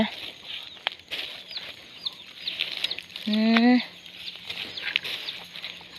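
Chickens in a rural yard cluck and peep, with abandoned chicks among them; a loud near cluck stands out in the middle over softer scattered calls, wing flaps and background noise, and a man murmurs briefly.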